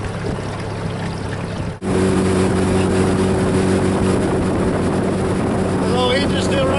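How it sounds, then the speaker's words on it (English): A Yamaha outboard motor drives a boat through stumpy water toward a river channel, droning steadily and loudly close by after a brief dip, with wind buffeting the microphone. "engine's still running good"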